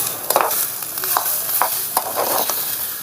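Green chilies for a village-style thecha sauté and get turned in a pan over a small wood stove, giving a steady crackling sizzle broken by repeated scraping strokes of a spatula, close and continuous.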